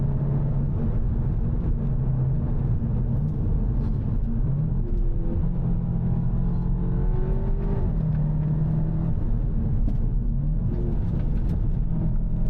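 2025 Cupra Leon Sportstourer in performance mode, its synthetic engine note played through the cabin speakers as a steady low drone with gentle rises in pitch, heard continuously from inside the car without talking.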